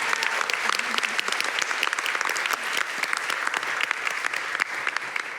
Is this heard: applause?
yes